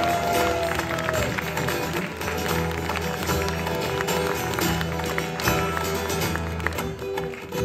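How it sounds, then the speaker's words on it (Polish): Audience applause at a live song concert, dense continuous clapping from a crowd mixed with stage music and hum, holding steady and loud throughout. "Wielkie brawa!"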